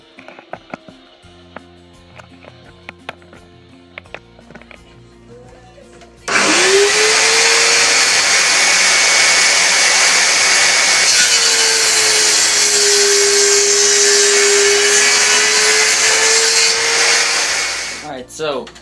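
A power drill bores two holes into a wooden block for a portable table saw stand, a loud steady whine sustained for about twelve seconds after some quiet clicks and handling noises.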